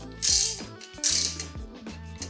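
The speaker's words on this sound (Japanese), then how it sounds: "この部分がラチェットになってますのでこれを使いました。" A ratchet wrench loosens a shock absorber nut on a Suzuki Jimny Sierra JB74, giving two close, loud bursts of rapid clicking separated by quieter handling noises.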